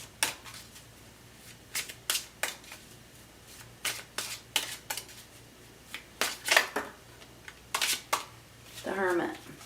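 Tarot cards are shuffled in repeated short riffling bursts, a dozen or so crisp papery flutters spaced irregularly, close and fairly quiet, with a brief voice at the end.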